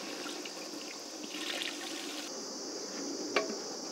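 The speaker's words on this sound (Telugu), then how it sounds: "మీకు తగ్గట్టు నీళ్ళు పోసుకోండి" Water poured into a pot of Rayalaseema-style fish curry, a faint, close trickle with a small splash near the end and no talk over it.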